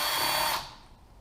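Power tool on a Honda CBX 1000 engine teardown, removing cylinder head bolts: a brief loud whirring burst lasting about half a second, then cutting off into quiet.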